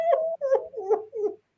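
A human voice imitates a whimpering puppy, four short whiny yelps in a row, close and clear, each rising then falling.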